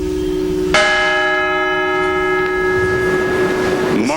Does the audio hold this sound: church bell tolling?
yes